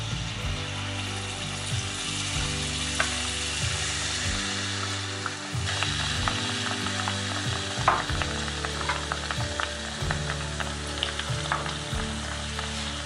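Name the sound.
malpua frying in a pan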